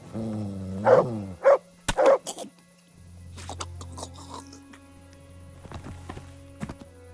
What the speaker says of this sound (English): Dog, don't get in my way.